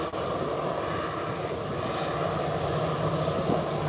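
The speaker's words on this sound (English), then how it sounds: "The aircraft is completely off the ground." A jet aircraft lifts off the runway at Howard Hamilton International Airport, its engines a loud, steady, close roar filling the short span without any speech.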